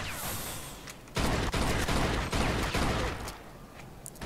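Bursts of rapid gunfire in the video game Mafia II, crackling in quick succession, loud and close, with sharp individual shots punctuating a dense, echoing fusillade.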